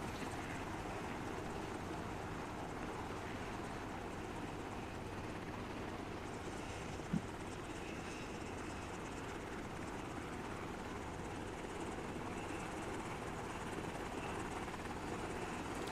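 A Huey helicopter in the ArmA video game drones steadily and loudly throughout, its rotor and engine noise continuous and unbroken, with no talking.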